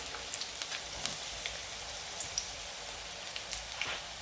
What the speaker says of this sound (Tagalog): Ilagay ang bawang pag mainit na yung mantika.